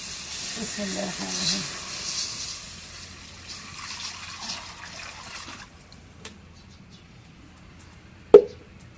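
Water poured into a hot kadai for cooking lentils gives a loud hiss and sputter that fades out over several seconds, followed by quiet and one sharp close knock.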